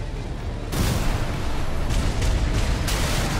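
Explosions in Armored Core VI: a sudden heavy blast breaks over a low rumble, then a sustained roaring wash of booms and gunfire, loud and continuous.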